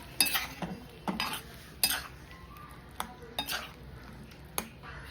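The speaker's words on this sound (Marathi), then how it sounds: "त्याच्याबरोबर काजू पण टाकूया म्हणजे काजू आणि भाजी शेंगा सर्व एकदम शिजेल" Cashews, peas and bean pods tipped into a cooking pot and stirred for a potato-and-bean vegetable dish: a run of sharp metallic spoon clinks and scrapes against the pot, clustered in bursts over a quiet background.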